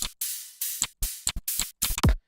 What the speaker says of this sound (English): You get 5 cymbal loops,